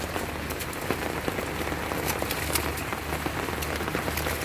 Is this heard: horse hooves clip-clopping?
no